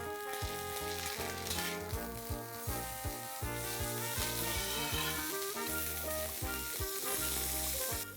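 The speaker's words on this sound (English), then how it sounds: "Let's add a teaspoon of ginger paste and a teaspoon of garlic paste and saute till the raw smell goes off." Ginger paste and garlic paste sauté with browned onions in a pan for an egg tawa masala, a soft sizzle heard under loud, busy background music with no talking.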